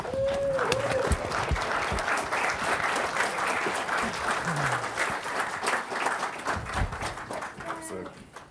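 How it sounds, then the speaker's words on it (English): Sustained audience applause and clapping fills a panel event room, loud and steady for several seconds before tapering, with brief voices and crowd murmur mixed in near the end. "Please give a warm round of applause for our moderator for the evening, Justin Hunte."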